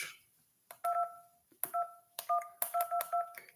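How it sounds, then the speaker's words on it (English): An iPhone 12 Pro Max keypad sounds a string of short, clear dialing tones, each a crisp beep with a tap, in an uneven rhythm as a phone number is entered, with a hushed background between presses. "This is what the iPhone 12 Pro Max looks like when you make phone calls."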